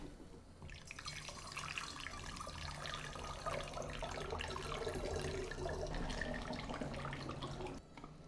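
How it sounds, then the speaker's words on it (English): Water runs steadily from a sink tap onto developed film during a home developing wash, a continuous splashing flow that starts abruptly and stops near the end, with no talking. "I ran this under a sink for 3 minutes"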